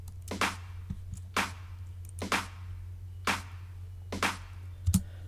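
A soloed snare and clap drum group from a bootleg dance track hits in a steady pattern of sharp, bright strikes over a low constant hum, fairly quiet and with no voices.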